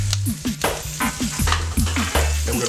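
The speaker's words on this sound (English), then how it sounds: "Now when you cook in a wok, you wanna keep turning it" Kale and garlic stir-frying in a wok, with loud sizzling and a quick, repeated rhythm of scraping and tossing as the greens are kept moving, close and constant.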